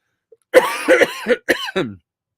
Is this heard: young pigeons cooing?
no